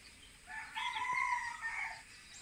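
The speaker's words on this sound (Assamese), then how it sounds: "চৰাইৰ মাত কিমান যে ধুনীয়া" A rooster crows once in a flower garden, a single drawn-out call that swells and fades over about two seconds against a quiet background.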